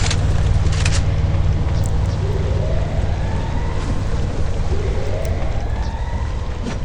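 Engine drone of a vehicle in a mobile battle royale shooter game, a steady loud hum running throughout with wind-like noise on top and rising revving sweeps.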